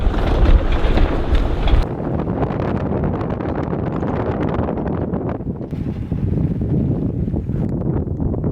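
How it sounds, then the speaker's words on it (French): Strong wind buffets the microphone in the Rub' al Khali sand desert, a steady, loud roar that swells in heavy gusts and briefly eases, with no voices. "là il y a quand même pas mal de vent"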